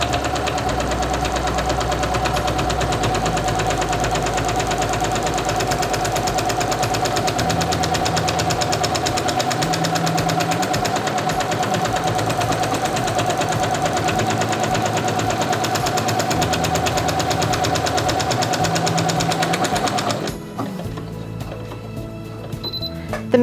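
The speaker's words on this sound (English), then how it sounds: "Lower the presser foot and begin sewing." A Singer Quantum Stylist 9960 sewing machine stitches a buttonhole with a steady rapid mechanical hum and ticking, shifting pace as it works, then stopping near the end.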